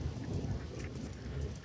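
Steady rainfall with a low rolling rumble of thunder in the RPG Maker horror game A Ghost's Lullaby, a continuous dense wash of noise without pauses.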